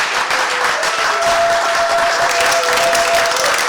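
A crowd at a closing ceremony claps continuously, a thick even roar of applause filling the whole stretch, loud and close with no voices on top.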